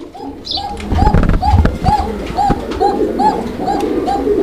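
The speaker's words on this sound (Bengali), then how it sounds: "আর কোকার ডাকটা শোনেন একটু" Pigeons at a wholesale pigeon market coo in a steady series of about nine evenly spaced calls, close and clear over a busy background of low murmuring and shuffling.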